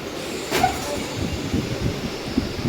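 Steady rumble of a moving Mumbai local train heard from inside a carriage, with rhythmic low clatter and a brief squeal early on.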